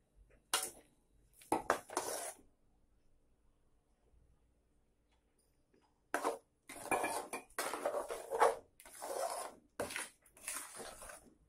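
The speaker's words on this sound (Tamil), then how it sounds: "நல்லா கெட்டியாகிற வரைக்கும் நல்லா கிளறிக்குங்க." Lentil and jaggery filling is stirred in a pan in a few separate bursts of scraping and metal clatter, with a long quiet gap between them.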